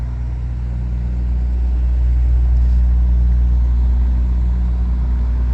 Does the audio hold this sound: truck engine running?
yes